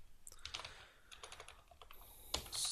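Someone types code on a computer keyboard in quick, irregular bursts of soft key clicks, ending with a sharper keystroke, close and quiet with no talk.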